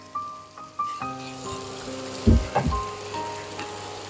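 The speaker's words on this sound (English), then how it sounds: "saute the cabbage together" Mushrooms and cabbage sauté in a pan, a soft crackling sizzle with a couple of louder bursts as ingredients are added or stirred, set against background music.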